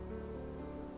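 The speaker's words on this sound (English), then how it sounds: "It's raining." Steady rain falling in the Genshin Impact game world, a dense even patter on surfaces that holds at the same level throughout with no voices over it.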